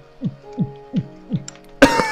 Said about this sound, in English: Why do I always cough in the intro?